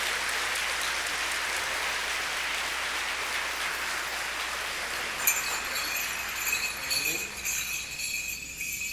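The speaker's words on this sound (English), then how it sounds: "I just want to give a round of applause for our dancers and our singers" Audience applause for dancers and singers at the opening ceremony of a national conference on ending homelessness, a steady wash of clapping filling the hall, with a brighter, thinner patter of claps toward the end.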